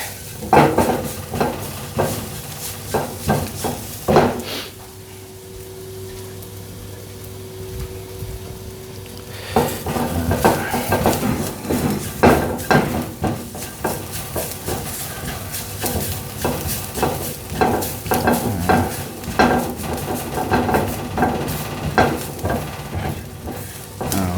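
Garlic frying in a pan for a clean-eating meal, a steady close sizzle with scraping stirs throughout, a quieter stretch midway with a low hum, no talking.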